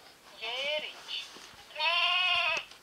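Two bleats from a sheep, used as a cue in a cartoon sound-guessing game: a short wavering cry, then a longer sustained one, loud and close.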